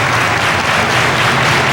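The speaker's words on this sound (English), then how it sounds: "Listen to this crowd." A wrestling crowd cheers and applauds loudly and steadily, a dense wash of clapping and voices that fills the space without a break.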